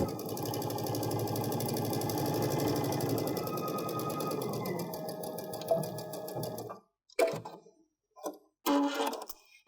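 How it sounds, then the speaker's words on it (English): A sewing machine runs a continuous straight stitch across the fold of fabric for a drawstring backpack casing, with a steady mid-pitched motor whir for about seven seconds before stopping, followed by a few brief handling sounds. "I have the edge of my foot even with that top fold of the fabric. And I just have a standard straight stitch. I'm just going to stitch all the way across."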